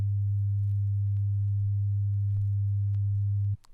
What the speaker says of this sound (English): Two tones will be presented. The first tone will be in phase, the second out of phase.